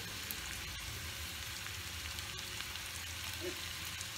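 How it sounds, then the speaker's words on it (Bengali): Chopped onions frying in a pan for an omelette with green chilli, garlic and coriander, a steady soft sizzle held at a low, even level throughout with no talking. "এদিকে পেঁয়াজটা ভাজতে থাকুক"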